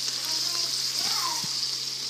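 Onion and garlic browning on the sauté setting of a pressure cooker make a steady, moderate hiss, with a couple of soft low bumps midway.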